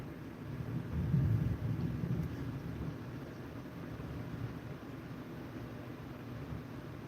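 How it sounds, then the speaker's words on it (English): Deep, rolling thunder from a thunderstorm rumbles loudly, swelling near the first couple of seconds and then lingering as a steady low roar, with no voices. "this thunder ain't no joke."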